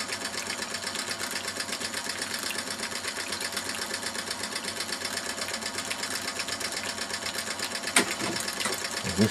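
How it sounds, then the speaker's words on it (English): A small model ram pump, about 8 to 9 inches high, runs in a stream, giving a steady, fast mechanical clatter of its clack valve over water noise, close and constant, with a sharp knock near the end. "This little ram pump is only about 8-9 inches high overall."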